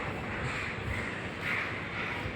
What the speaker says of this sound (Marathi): तर कावळे आज इथंच बसलेले आहेत